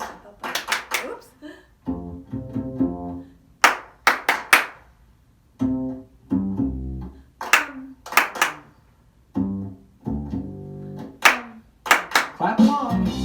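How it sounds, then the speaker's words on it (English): Children clap their hands along to a song at a library storytime, with bursts of claps interleaved with an adult singing and talking, the clapping fairly near and moderately loud. "Clap along."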